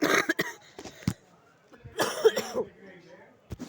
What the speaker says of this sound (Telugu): దగ్గు వచ్చేసింది